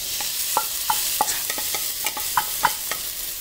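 Minced beef stir-fries in a wok with garlic and ginger, making a constant loud sizzle. A spatula taps and scrapes the wok in a quick, irregular rhythm, and no one speaks.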